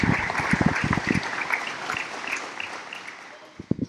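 A town hall audience at an elementary school applauds EMS crews with steady clapping that fades gradually, a few louder claps returning near the end; no talking.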